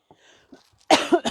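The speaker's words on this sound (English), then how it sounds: "now I'm going to cough" A single close cough, preceded by a few faint throat sounds and breaths.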